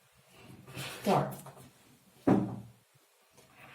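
A door nearby opening or closing in a room: two distinct thuds a second apart, the second sharper and louder, with quiet room tone between and after.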